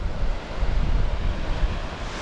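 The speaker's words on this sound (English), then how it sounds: "All these small little waterfalls, and it leads up to an old ruin there." Small waterfalls tumbling along the Watkins Path in Snowdonia: a steady, close rush of water with a broad, noisy wash and some wind buffeting, continuous with no voices.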